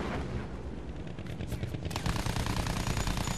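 Battlefield 1 campaign combat: a dense, rumbling wash of gunfire and heavy battle noise, fairly steady, growing harsher and brighter partway through.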